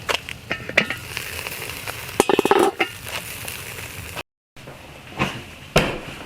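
Bacon and melting cheese cooking over hot coals at a campsite, with steady sizzling and a few scraping, clinking utensil knocks, close and fairly loud.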